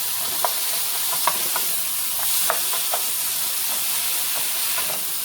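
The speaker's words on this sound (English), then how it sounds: "Just go on and let this red onion cook down." Red onion sizzles and fries in a pan with a steady hiss, punctuated by light stirring clinks and small pops, close and moderately loud with no speech.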